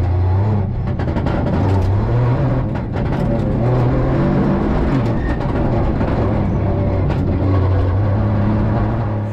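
A Peugeot 208 Rally4 rally car (2020) pulls hard in third gear on a test stage, its engine roaring loud and close with a steady, rising note that swells and dips slightly across the run.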